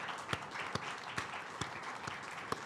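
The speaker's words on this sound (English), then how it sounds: "Let's give them a round of applause." Audience applause at a talk about Disney entertainment, steady, fairly distant clapping from a crowd with a few sharper individual claps standing out.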